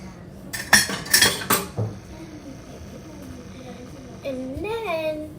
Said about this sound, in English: Now we're gonna just put this beautiful knife covered in chocolate in the sink